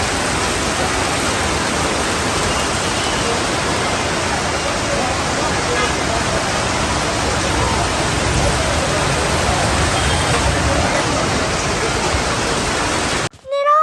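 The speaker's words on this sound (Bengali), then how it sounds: "এই যে একটা টিনের উপর অনেক আওয়াজ হচ্ছিল" Steady, dense rain drums on a tin roof, a loud continuous wash of broadband noise that barely changes for the whole stretch, with a brief dip and a faint tonal sound right at the end.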